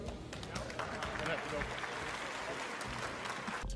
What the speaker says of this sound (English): people start clapping anyway